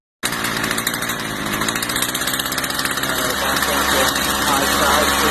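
A Stihl F5 55RC two-stroke engine, newly reassembled after carburetor and throttle cable work, fires up abruptly and settles into a loud, buzzing idle close to the microphone.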